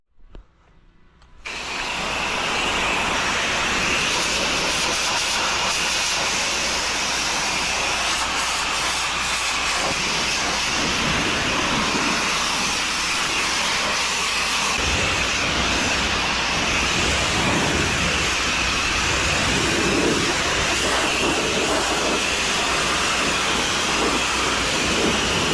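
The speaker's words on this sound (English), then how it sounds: "we are going to spray it with some bleach, kill all the mold on it" A pressure washer fitted with an X-Jet sprays bleach onto a painted surface to strip paint and kill mold, producing a loud, steady, close-up hiss that runs unbroken for nearly the whole stretch.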